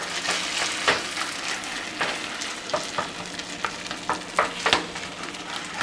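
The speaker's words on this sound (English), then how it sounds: "Give this a stir." Shrimp in tomato salsa sizzle in a pan over a low flame while being stirred, giving a soft continuous frying hiss with irregular scraping clicks from the utensil, close up and with no talk.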